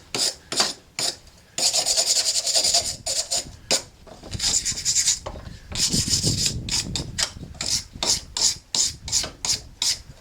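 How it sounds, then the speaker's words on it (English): A forged knife blade being scrubbed of slag with harsh rasping strokes, short bursts at first then a long stretch of rapid back-and-forth scrubbing, close and loud, with no voices. "now we're just going to scrub some of the slag off of this thing"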